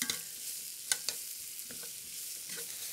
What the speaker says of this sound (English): chop shallots and sliced mushrooms. And we're going to saute those until the mushrooms have lost most of their moisture